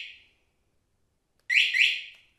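A Vento motorcycle alarm is switched off with its key fob. A short, high electronic tone fades out, then after a pause two quick, loud chirps sound close by.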